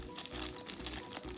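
Plastic bags holding school supplies crinkle and rustle in short, close bursts, the quiet crackling handling noise heard alone.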